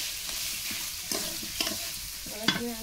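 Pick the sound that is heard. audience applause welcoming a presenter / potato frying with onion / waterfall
potato frying with onion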